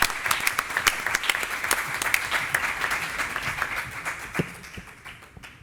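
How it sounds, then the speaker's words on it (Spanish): Audience applause fills a congress hall at an ophthalmology symposium, dense steady clapping from many hands that tapers off toward the end. "creo que se merece un aplauso porque es el precursor de todo esto"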